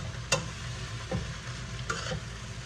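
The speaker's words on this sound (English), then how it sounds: "And mix it all together" Chestnuts and vegetables mixed in a frying pan for spicy shrimp pad Thai: a few distinct scraping stirs against the pan over a quiet, low sizzle.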